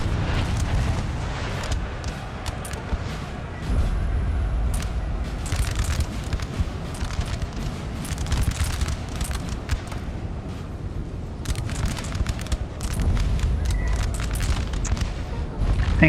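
Artillery fire in a Napoleon Total War mod battle: a dense, continuous barrage of booms and cracking volleys, loud and rumbling throughout with no clear pauses.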